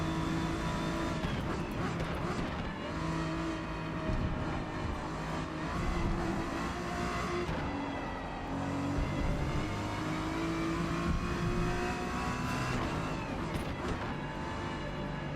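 Race car engines in Forza Motorsport roaring steadily for about fifteen seconds, the close, loud mechanical drone rising and falling with gear changes and acceleration, with no talk over it.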